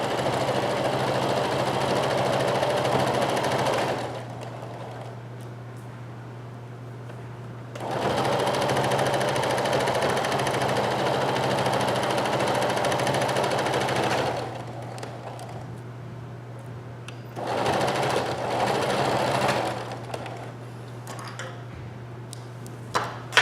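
A home sewing machine stitches a sweatshirt pocket seam with the needle left down between runs. It gives three long, loud, steady whirring bursts separated by quieter pauses, with no speech.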